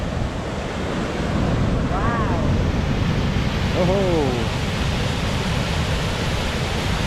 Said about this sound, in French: On est arrivé à la chute de la rivière Sainte-Anne.